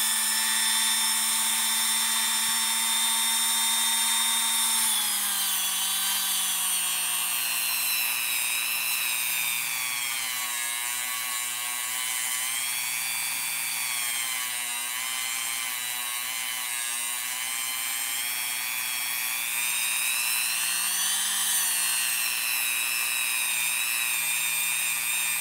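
A spinning handle is sanded with sandpaper on a lathe-like machine, giving a sustained loud motor whine with shifting tones as pressure changes, and a continuous close abrasive hiss running the whole way through.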